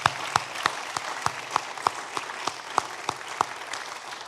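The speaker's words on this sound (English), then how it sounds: "Can we have one more round of applause for all of our finalists and our winners tonight and our inductees?" Applause at a university alumni awards evening, honouring finalists, winners and inductees; sparse, steady claps from a modest audience with a few sharper, louder hand strikes standing out, no voices over it.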